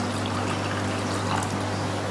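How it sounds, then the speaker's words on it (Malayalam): Half a litre of water is poured into a pot of chopped onions for pickling, a steady close rushing splash that runs without a break. "1/2 ലിറ്റർ വെള്ളം ഇതിലേക്ക് ഒഴിച്ചു"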